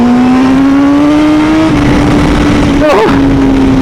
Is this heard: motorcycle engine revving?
yes